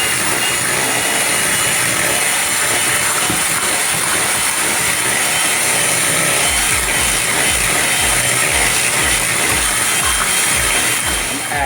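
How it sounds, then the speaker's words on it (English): Whole nutmeg grated by hand for a sweet potato pie, giving a steady close scraping rasp that runs continuously and fairly loud, with a rhythmic low rubbing pulse entering partway through. "I'm gonna grate in some nutmeg"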